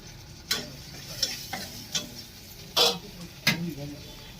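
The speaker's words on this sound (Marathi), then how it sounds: "आता वाटाणे टाकलेले आहेत परतून घेते तेलात तेलात परतून घेत आहे" Green peas sautéing in oil in a pan with green chilli, sharp stirring scrapes and clicks at irregular intervals over a soft low sizzle, close and fairly quiet.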